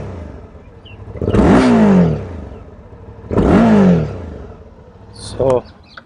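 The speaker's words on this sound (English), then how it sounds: "Also this exhaust, it gets a wide exhaust, and the exhaust note is really nice." Suzuki V-Strom 650 XT motorcycle with a wide exhaust, revved twice in strong, rising bursts about two seconds apart, followed by a short blip, up close with no talking.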